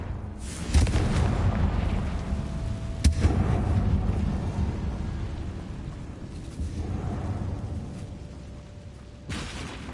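A Confringo fire spell blasts in Hogwarts Legacy, loud booming explosions opening and recurring through the stretch, each followed by rumbling decay, with no talking.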